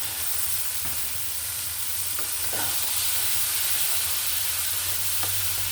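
Drained chickpeas frying in a pan for bhuna, a loud, dense continuous sizzle and hiss with a few faint stirring clicks, no voices.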